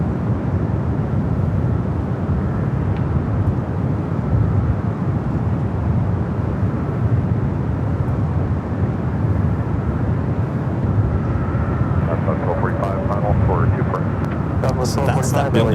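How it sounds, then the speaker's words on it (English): A Boeing 777 freighter touching down on runway 25 left at Los Angeles airport sends a broad, steady jet roar across the whole stretch. Faint higher tones and clicks creep in near the end, and a voice may be present underneath. "That 777 freighter touching down at 25 left."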